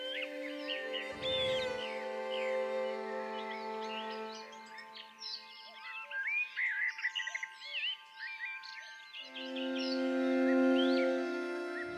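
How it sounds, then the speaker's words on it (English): Brambling birdsong rings out in a quiet outdoor setting, a series of chirps and twittering calls over a steady droning hum, with one brief louder rustle early on. "Did you hear that? It's brambling."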